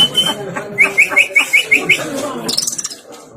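A person imitates a canary singing with a rapid run of high, evenly spaced whistled chirps, then a quick trill, close and clear against a low vocal murmur.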